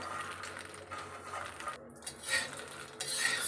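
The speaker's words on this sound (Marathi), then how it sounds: "आता हे जी मकाणे आहेत ते छान छानपैकी भाजून घेऊया आपण" Makhana (fox nuts) roast in oil in a pan over a slow flame, with steady scraping and rattling of a spoon against the metal pan and light clattering throughout.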